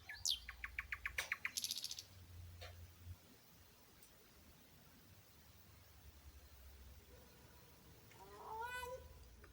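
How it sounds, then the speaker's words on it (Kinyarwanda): Small birds chirp in a fast run of bright, repeated notes at the start, then go quiet, with a second burst of rising trills near the end, moderately close over low background hiss. "Inyoni iyo zishimye ziraririmba cyangwa zikajwigira iyo hari ikizibangamiye."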